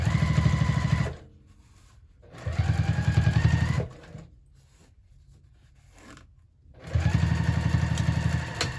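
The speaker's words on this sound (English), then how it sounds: "top stitch that at an 1/8 of an inch seam allowance" A sewing machine top-stitches a bag seam at close range, running in three steady motor bursts of a few seconds each, with quiet pauses between them.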